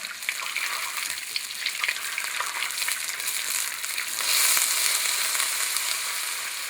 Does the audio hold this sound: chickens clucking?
no